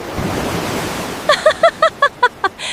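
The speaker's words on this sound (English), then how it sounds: "The sea! The wave! It reached me!" Sea waves wash in a soft, hissing surge at a seaside temple in Busan, followed by a quick run of seven short, evenly spaced tonal calls.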